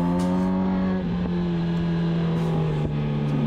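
A Honda Fit drives along at steady speed, its engine droning in an even, continuous hum with slight shifts in pitch and no pauses.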